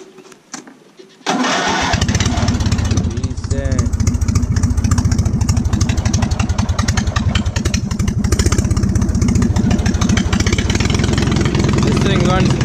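A small engine on a homemade motorized lawn chair, started with the choke pulled, catches abruptly after a quiet moment and runs loud and close with a steady buzzing chug.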